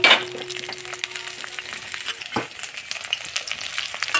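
Chopped onion and green chillies sizzle in hot oil in a karai, a steady close frying crackle broken by clinks of a utensil stirring against the pan.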